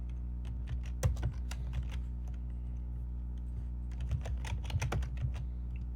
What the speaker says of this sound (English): in the cell, you can type in code like print